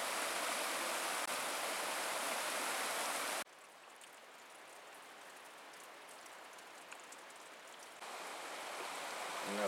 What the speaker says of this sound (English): That's Avalanche Creek down there.